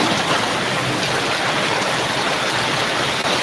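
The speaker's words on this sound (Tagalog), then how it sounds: "Ang lakas ng ulan." Heavy typhoon rain pours down in a dense, steady roar that stays loud and even throughout, with no voices.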